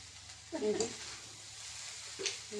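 Grated coconut being stirred and fried in a pan until reddish, as a base for coconut sweets: a faint, low sizzle with a couple of brief scraping stirs, while someone speaks softly.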